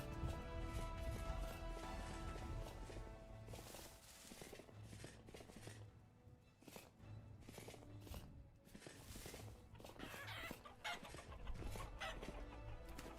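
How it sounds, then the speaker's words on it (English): Chickens squabbling in the medieval survival game Vintage Story give off busy clucking and flapping bursts, with dense game ambience and music running throughout. "Those chickens fighting?"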